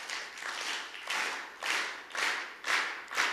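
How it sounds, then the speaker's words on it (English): An audience claps hands together in slow rhythm at a talk, heard as about six swelling waves of massed clapping, fairly close, with no talk over it. "Could I ask all of you to clap your hands in rhythm,"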